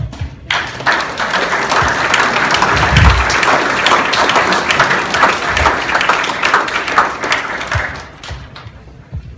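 An audience at a real estate investors' association keynote claps after the speech, loud sustained applause that starts abruptly, holds for several seconds with a few whoops, then thins out near the end.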